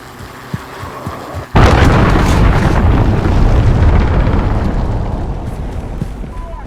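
A cruise missile strike in Call of Duty Modern Warfare multiplayer detonates with a sudden, loud, deep boom, followed by several seconds of heavy rumbling that slowly fades.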